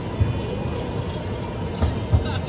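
A yellow Lisbon tram rolls past in the street, a steady rumbling roll with a few low wheel clunks, fairly close among city ambience.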